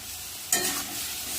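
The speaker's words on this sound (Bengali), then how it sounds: "দিয়ে দেবো কেটে রাখা টমেটো" Chopped tomato dropped into hot spiced oil for masala paneer, a quiet hiss that jumps into a brief brighter sizzle partway through, with a faint stir and no talk.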